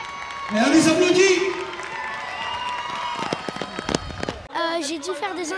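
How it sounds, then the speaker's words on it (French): Crowd at a school athletics event in Saint-Paul clapping and cheering for runners, with loud raised voices and shouts over the applause, then scattered claps under a near voice speaking. "Et on les applaudit."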